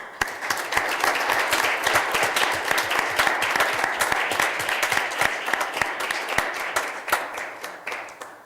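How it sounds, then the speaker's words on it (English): A meeting-room audience applauds a retiring firefighter after 25 years of service, a dense and sustained round of clapping from many hands that keeps going for several seconds. "And for that, I give you a round of applause."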